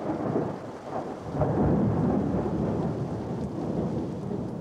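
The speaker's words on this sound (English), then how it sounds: "enjoying the gloom of a rain-delay thunderstorm" Rainy thunderstorm, a loud rolling rumble of thunder blended with steady rain, continuous and heavy throughout.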